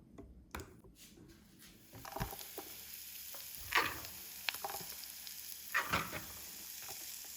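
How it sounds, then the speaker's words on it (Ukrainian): Chopped onion sizzling in heated oil in a pan, a steady close frying hiss with occasional stirring scrapes and louder bursts, no voices. "Цибулю підсмажу на розігрітій олії, обов'язково розігрітій."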